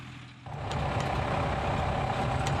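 A truck's engine rumbles steadily at night in the Pantanal wetland, starting quiet and swelling into a constant close drone after half a second, with faint clicks and no talking.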